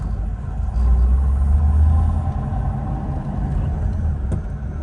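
A 1941 Cadillac convertible driving, its engine a low steady rumble that swells slightly around the second second and then holds on at a fairly loud, close level.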